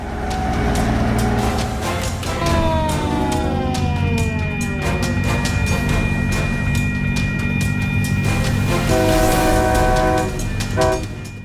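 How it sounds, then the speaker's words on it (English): A snow-clearing train with a giant turbine blasting snow rolls past loud and close, a sustained roar with rail clatter and long sounding horn tones. "A giant turbine swallows the snow and blasts it out in two white geysers like a winter dragon."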